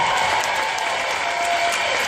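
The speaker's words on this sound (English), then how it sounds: "give an applause to Norman Lear" A theater audience gives steady, loud applause for producer Norman Lear, a full even roar of clapping from many hands with no break.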